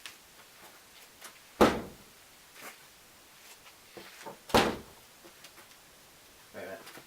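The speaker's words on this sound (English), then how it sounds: "So let's get this door closed." Two sharp bangs of a Mazda RX-7 FC Turbo door shutting, a few seconds apart, with faint shuffling and quiet noises in between.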